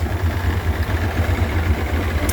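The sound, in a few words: Mercury 175hp EFI V6 two-stroke outboard engine idling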